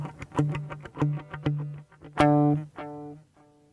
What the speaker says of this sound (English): A stereo tape echo.